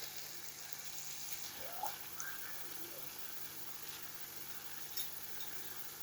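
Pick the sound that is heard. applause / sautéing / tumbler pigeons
sautéing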